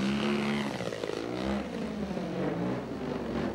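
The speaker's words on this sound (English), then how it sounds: "Bill, relying on that 3W 120cc engine" A 3W 120cc-engined model aircraft flies past, its steady propeller drone loud and close, the pitch sliding downward as it banks away at a 1995 Madera flying event.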